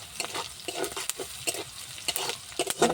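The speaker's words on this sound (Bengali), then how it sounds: "ভাজার পর জিরের গুঁড়ো ধনিয়ার গুঁড়ো হলুদের গুঁড়ো লবণ সব কিছু দিয়ে দেবো" Small fish frying with ground cumin, coriander, turmeric and salt, heard as a steady close sizzle broken by repeated scraping stirs of a spatula in the pan, no voices.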